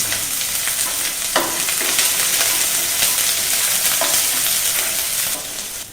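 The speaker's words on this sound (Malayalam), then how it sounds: "ഉള്ളി ഒരു ലൈറ്റ് ബ്രൗൺ കളർ ആവും വരെ ഇളക്കിക്കൊണ്ടിരിക്കും" Onions frying in oil and being stirred until light brown for Indian Coffee House style masala dosa, a loud, steady close sizzle with a few sharp spoon scrapes against the pan and no voices.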